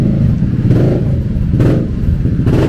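A motorbike rumbles and revs nearby on a street along Lamai Ring Road in Koh Samui, its engine note rising and falling in loud surges with clattering mechanical noise.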